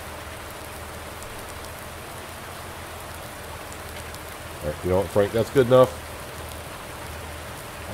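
Steady rain hisses throughout in the game Farming Simulator 19, an even wash of noise, with someone speaking briefly over it near the middle.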